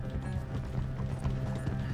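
Horse hooves clip-clop steadily in Red Dead Redemption 2 on PS4 Pro, a continuous rhythmic trot of dull thuds mixed with the game's low rumbling ambience and tack rattles, with no speech.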